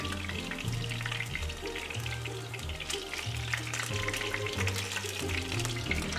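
Pieces of fish frying in oil for a Kerala-style fish curry, with a steady broadband sizzle and crackle that runs throughout at a moderate level, over a low hum.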